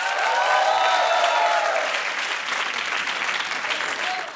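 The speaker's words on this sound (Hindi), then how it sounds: "एक बार जोरदार तालियां हो जाए अजहर की पूरी टीम के लिए।" Loud, dense studio audience applause and cheering on a comedy talk show, a continuous roar of clapping close up that holds steady throughout before easing slightly at the end.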